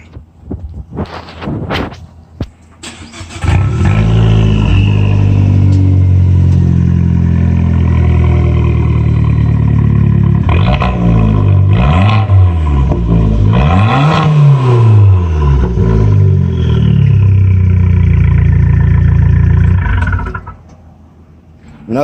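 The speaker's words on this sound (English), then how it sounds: "Let y'all hear the little Fiat." A small Fiat Abarth car engine starts with a few clicks, then idles with a throaty exhaust drone, revving up and down several times before cutting off.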